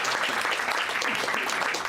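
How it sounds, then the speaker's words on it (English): An audience claps in a steady, dense burst of applause, even and sustained for under two seconds. "So, round of applause, please."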